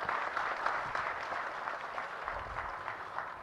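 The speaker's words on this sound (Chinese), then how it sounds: "让我们以热烈的掌声感谢根本传承上师加持同修圆满吉祥。" An audience applauding at a Buddhist temple ceremony in Seattle, a dense, steady wash of clapping from many hands that continues evenly throughout, with no voices standing out.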